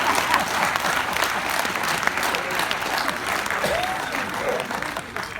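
A live poetry show crowd breaks into sustained applause, a loud, dense wash of many clapping hands that holds steady for several seconds, with faint crowd murmur and scattered cheers mixed in.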